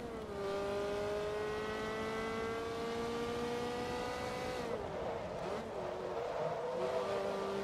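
A Ferrari F430 in the racing game Forza Motorsport 2 revs hard with a steady high engine whine that climbs, then drops and wavers as it shifts, loud and close with no talk.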